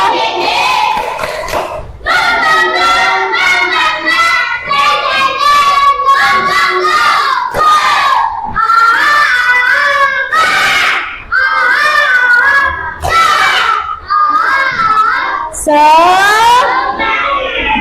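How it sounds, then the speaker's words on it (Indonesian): A class of children chant an Indonesian clapping cheer loudly in unison with rhythmic clapping, continuous and energetic, with shouts rising at the end. "Tepuk semangat lagi ya, yang semangat"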